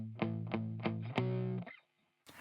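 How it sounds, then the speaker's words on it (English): Muted electric guitar power chords in the left channel, four short chugging chord stabs in a steady rhythm before the sound fades to near silence, played alone and fairly quiet. "In the second half of verse 1 we also have muted guitar power chords coming in."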